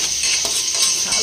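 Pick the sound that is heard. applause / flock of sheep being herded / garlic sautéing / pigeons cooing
garlic sautéing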